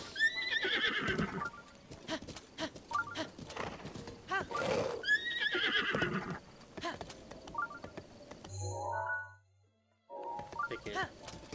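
Horse neighs and whinnies in Zelda: Breath of the Wild, repeated loud cries mixed with hoof clip-clop, other animal calls and game sounds, with a short silent gap near the end.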